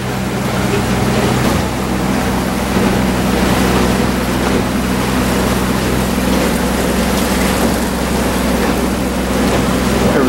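A boat named The Oasis motors along at about 5 knots on a shakedown voyage, with a steady droning engine hum under constant wash of water and wind, loud and unbroken throughout.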